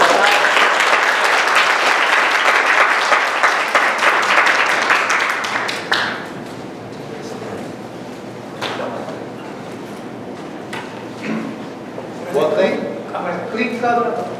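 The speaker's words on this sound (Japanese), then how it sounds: "それでは皆さん拍手でお迎えください。" Audience applause welcoming a speaker at a church gathering, broad and steady for about six seconds before fading into scattered claps, thumps and faint murmuring in the room.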